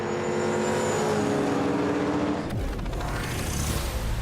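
Race car engine from a street race scene in the film Fast X, a loud close roar with a rising whine, then a sharp shift into deeper rumbling as the car passes.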